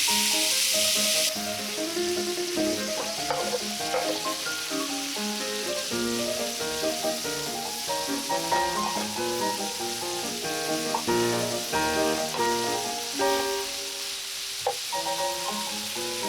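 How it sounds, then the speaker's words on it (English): Parsnips and carrots sauté in a hot pan with a steady crackling sizzle that runs throughout, broken by occasional clinks and stirring scrapes, close up with no voices. "Now we're gonna take out our parsnips and the carrots. I'm just gonna saute them real quick."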